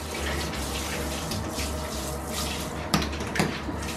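Running water fills a tub or sink for a husky puppy's first bath, a steady continuous splashing flow throughout, with a couple of brief clunks near the end.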